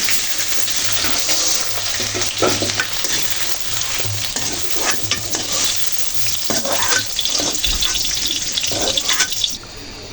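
Fried beans and potatoes are scooped out of hot oil with a large ladle: bubbling sizzle, then wet scraping and clinking as the ladle moves through the pan, close and continuous.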